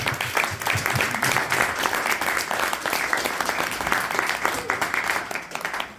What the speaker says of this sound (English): all of our courageous women a big round of applause